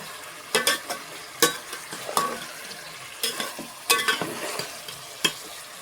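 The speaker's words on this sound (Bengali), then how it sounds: "আরও কিছুক্ষণ কষিয়ে নেবো আমি এগুলো দিয়ে" Spiced egg and potato masala for egg biryani being sautéed in a pan, a low sizzle broken by repeated sharp scrapes and clinks of a spatula stirring at an uneven rhythm, close and without talk.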